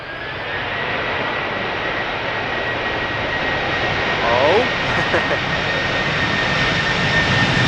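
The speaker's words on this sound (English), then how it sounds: "Next up, KLM B769 A330-200. Returning from Toronto" KLM Airbus A330-200, registration PH-AOB, returning from Toronto and landing at Schiphol, its jet engines a steady broad roar throughout that swells slightly toward the end, with a faint high whine on top.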